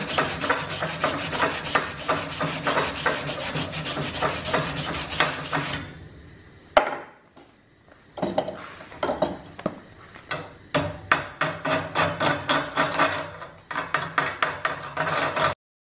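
Slag being scraped off a quarter-inch flux-cored weld bead laid at about 19 volts and 140 amps, a steady dense rasping for several seconds, a short pause, then a run of sharp, rhythmic scraping strokes close up with no talking.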